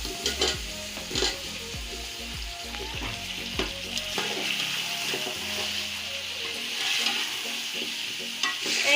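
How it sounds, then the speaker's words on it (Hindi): Potatoes frying in a tomato masala in a pan, with a continuous close sizzle and repeated scraping, knocking strokes of a spoon stirring, more frequent in the first few seconds and then easing into steady frying. "एक से 2 मिनट के लिए मैं आलू की भुनाई करूंगी।"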